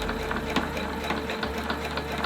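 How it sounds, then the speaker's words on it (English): A sewing machine runs steadily while stitching quilt squares, a continuous close mechanical whir with fine rapid needle ticking and a brief dip in motor tone midway. "Once it fixes it, I go ahead and I sew, trying to keep it as straight as possible."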